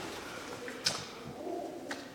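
Pigeons coo softly inside the stone halls of Edfu Temple, with a couple of faint, brief calls and wingy rustles over quiet room ambience, distant and low.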